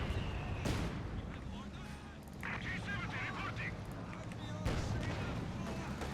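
Mortar and rifle grenade fire in Company of Heroes 2 gives dull booms and crackling gunfire layered in a dense battle din, with a voice commentating over it.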